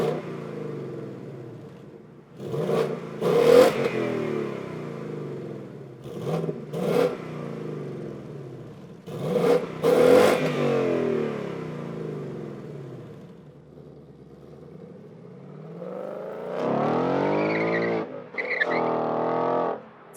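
A 2018 Ford Mustang GT with active exhaust set to quiet mode revs in short, separate throttle blips. Each rises and falls back to a muted idle, and a longer, rising rev comes near the end.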